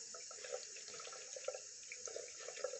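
A makeup brush being rinsed under a running tap in a sink: a steady, gentle water stream with soft splashes and drips as the brush moves through it, with no speech.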